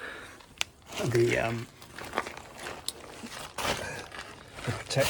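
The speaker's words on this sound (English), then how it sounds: "So I'll put some tarp down, as you can see" A plastic tarp crinkles and rustles in bursts as it is spread on the ground beneath a 2008 Audi A3 8P 1.4 TFSI petrol ready for an oil change, close up, with someone talking over it.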